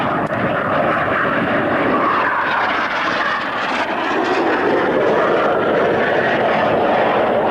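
A synchro pair of aircraft makes a fast pass at an RAF Coningsby airshow, giving a steady, loud, broad engine roar that holds without pause.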